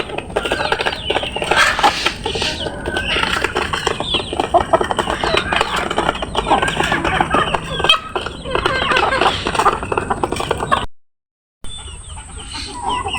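Domestic hens on a small Bengali backyard farm cluck continuously and fairly close, with scattered wing flaps and rustling. A brief dropout near the end is followed by quieter clucking.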